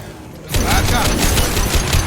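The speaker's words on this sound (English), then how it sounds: "His mechs shoot without question." Mechs in Mass Effect 2 opening fire, a sudden loud burst of rapid automatic gunfire that starts abruptly after a quiet moment and keeps rattling steadily up close.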